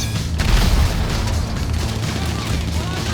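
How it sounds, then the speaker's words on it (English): Homing missile launcher firing at a helicopter in GTA V, heard as a dense run of loud booming blasts and explosions that roll on without a break, with a voice speaking over the barrage. "Now shoot it with your homing missile launchers."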